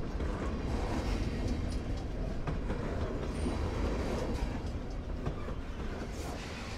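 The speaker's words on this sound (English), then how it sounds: "I'm gonna wait for this train to go by because it's extremely loud" A train rolls past loudly in the Life Is Strange video game, a dense, continuous rumble with rattling wheels and clatter holding steady throughout.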